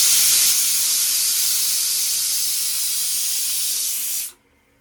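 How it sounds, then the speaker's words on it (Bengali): A pressure cooker of meat on the stove lets out a loud, steady hiss of escaping steam for about four seconds, then cuts off abruptly into near silence. "তো মাংসটা বসিয়েছি আবার প্রেশার কুকারে, 2টো সিটি দিয়ে তারপর নামাবো।"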